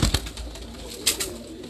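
Large pigeons on a rooftop in Larkana, Sindh coo in a few soft, low calls, near and moderately quiet, with a brief rustle at the start.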